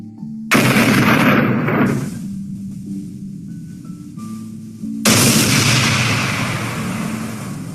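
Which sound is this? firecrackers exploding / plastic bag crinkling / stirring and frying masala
firecrackers exploding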